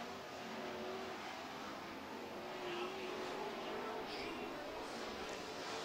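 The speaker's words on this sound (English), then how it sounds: "Jamie Vernas driving the number two Dynasty bathroom truck." Super trucks racing at Red River Co-op Speedway, led by the number two Dynasty bathroom truck, engines droning steadily at a distance with a rising whine partway through, under continuous commentator talk.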